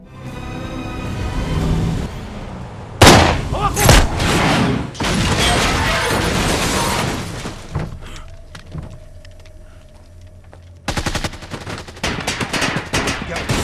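Sniper rifle and other gunfire in an action film about a cartel fight, dense loud bursts and booming shots with rattling, rapid fire that keeps returning through the scene, close and intense.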